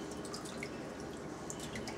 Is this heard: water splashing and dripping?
yes